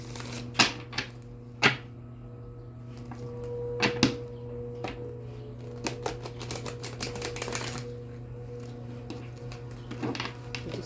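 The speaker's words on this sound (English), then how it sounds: "Some good shuffles in Virgo" Tarot cards riffle and slap in quick bursts, soft crisp rustles with a few sharper snaps, close up and without talk.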